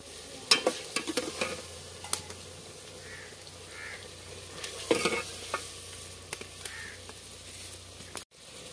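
Chicken frying in a pot in a Pakistani village kitchen, with sizzling and intermittent scraping stirs from a spoon, close and moderately loud, a crow cawing in the background and no talk.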